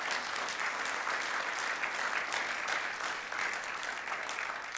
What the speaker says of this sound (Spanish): Dale el aplauso de alabanza al Señor.